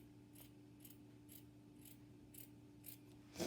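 Repeated crisp snips of scissors cutting, about seven evenly spaced strokes, close and quiet over a low steady hum.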